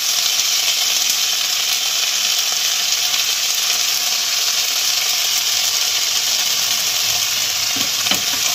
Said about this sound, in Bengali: এবার পেঁয়াজটা ভালোভাবে ভেজে নেব